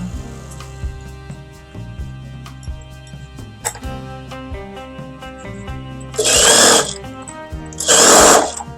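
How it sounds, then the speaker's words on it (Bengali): A sewing machine stitching deity clothing in a workshop runs in bursts of rapid mechanical whirring, with two loud hissing surges near the end over a steady background hum and clicks. "আপনি এটা কি ঠাকুরের পোশাক সেলাই করছেন নাকি"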